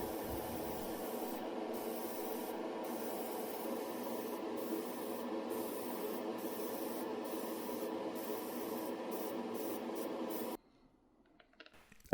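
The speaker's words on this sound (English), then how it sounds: "Spray some dull aluminium up the back." Tamiya dull aluminium spray paint hisses steadily from an aerosol can onto a scale model motorcycle frame, a continuous close spray for about ten seconds, broken by brief bursts, then cutting off into near silence.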